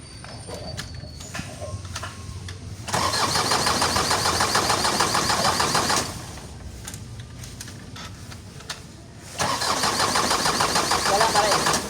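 An Isuzu 4HL1 diesel engine cranks over in two long bursts of starter grinding without catching, separated by a quieter pause, loud and close.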